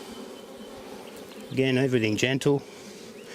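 Honey bees hum in a steady low drone during a hive inspection, and someone speaks softly over the buzzing partway through.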